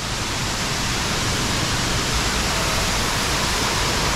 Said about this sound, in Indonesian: Ini depan ada air terjun langsung.